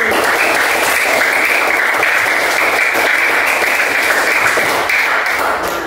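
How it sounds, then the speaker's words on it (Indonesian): Students in a classroom clap together for a classmate, a loud, continuous burst of applause lasting about six seconds without a break. "Tepuk tangan untuk Kamil."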